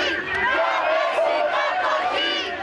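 Crowd of school and university students protesting at the Ledra Palace checkpoint in Nicosia, a dense mass of voices chanting and shouting in unison, loud and sustained, with shouts rising and falling in waves.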